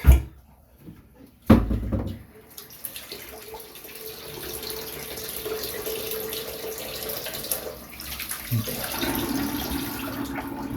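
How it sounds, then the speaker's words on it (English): Water draining from a bathroom sink after a wet shave, a steady close gurgling flow following a couple of sharp knocks, continuing with occasional bumps and no talking. "I'm gonna go ahead and drain the sink."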